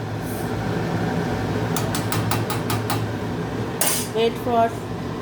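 Metal clinks as a lid is set on a chicken cooking pot, a run of quick light taps followed by a louder clatter and rattle near the end over a low background hum.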